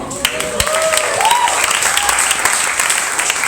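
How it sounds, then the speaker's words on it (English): A full audience claps throughout at a Pecha Kucha presentation night in Singapore, steady dense applause with a few sharper individual claps and a faint whistle-like tone weaving through. "You guys deserve a round of applause as well."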